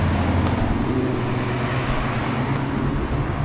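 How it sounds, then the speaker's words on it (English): A steady, loud roar of Maserati sports cars and road traffic passing close by in an Alpine town on the Tour du Mont Blanc, with no clear breaks between vehicles. "Got all these sports cars."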